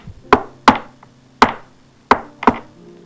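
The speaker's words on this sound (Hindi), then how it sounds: "फिर उसके रूम पे नॉक होता है।" Five sharp, close knocks on a room door, arriving in an uneven rhythm of a pair, a single and a final quick pair, each one crisp and hollow against an otherwise quiet room.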